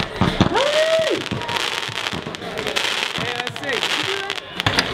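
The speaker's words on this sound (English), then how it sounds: "Sick fireworks." Fireworks burst and crackle with sharp pops and a whistling rise at a skateboard contest and concert, over a loud crowd and voices.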